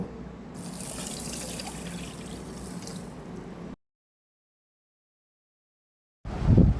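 Water runs from a tap into a bowl for dhokla batter, a steady splashing stream for several seconds, then silence, then a brief louder gush as the pouring resumes.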